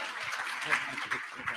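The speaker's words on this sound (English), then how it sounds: "Clap it for Justin real quick." An audience at a summit event gives brief applause, moderate clapping with a few louder bursts, mixed with voices talking over it.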